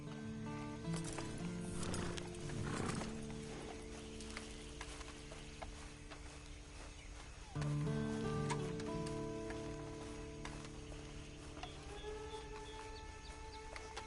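Horses neigh and whinny amid a busy outdoor scene in Red Dead Redemption Online, with hooves clopping and a steady noisy background throughout.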